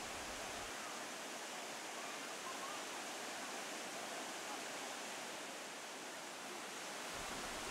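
Artificial waterfall in the Dniester canyon near Chervonohorod, a continuous broad rush of falling water that stays steady and fairly close throughout, with no voices.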